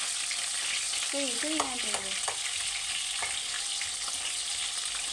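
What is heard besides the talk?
onions frying in a pan for Telangana bitter gourd fry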